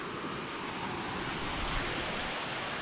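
Saluysoy Falls in Alfonso, Cavite pours in a dense, even rushing roar, steady and full throughout with no voices over it.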